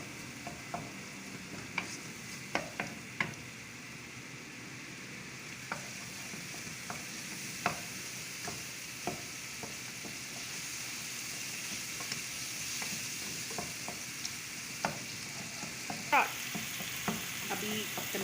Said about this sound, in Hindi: अब हम थोड़ा सा मसाले को थोड़ी देर के लिए 5 मिनट के लिए अच्छे से पकाएंगे।